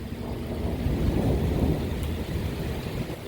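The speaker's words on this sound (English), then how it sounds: "Should be thunder here." A low, rumbling roll of thunder mixed with steady rain during a severe thunderstorm on Dauphin Island, Alabama, continuous and fairly loud with no voices.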